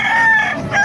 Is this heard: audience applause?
no